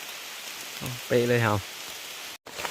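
Rain falling steadily on a morning outing, a soft continuous hiss throughout, with a brief stretch of talking partway through.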